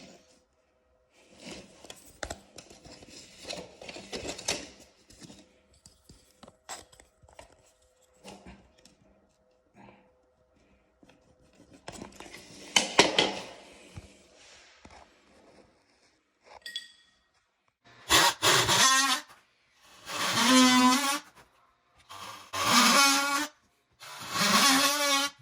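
A pipe is cut by hand with both hands: light clinks and rubbing come first, then a run of loud, rhythmic sawing strokes near the end, with quiet pauses between them.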